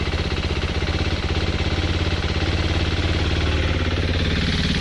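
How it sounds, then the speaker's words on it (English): Steady idle of a 2014 KTM 390 Duke single-cylinder motorcycle engine, running slightly fast, with an even, rapid pulsing thump held up close and loud throughout, no talk over it. "and it's idling."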